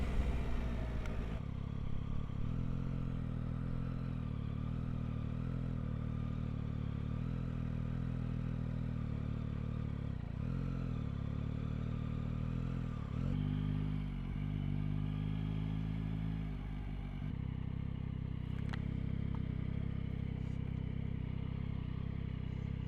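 A 2025 Yamaha Tracer 9 GT motorcycle rolls along at low speed with a steady, close engine hum and soft rises and dips in revs, plus faint clatter and some wind noise.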